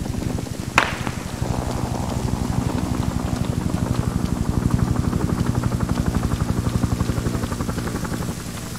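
Helicopter in an Arma 3 military simulation exercise with a Vietnam setting, a steady rhythmic rotor chop close and loud throughout, with a sharp crack near the start.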